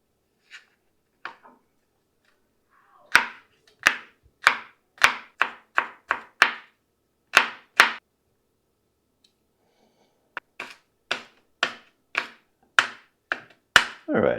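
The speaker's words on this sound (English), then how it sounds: "I like to get the outside off, and then I just chop it up." A knife chops garlic cloves on a cutting board in crisp, rapid bursts of sharp knocks, loud and close, with short pauses between runs.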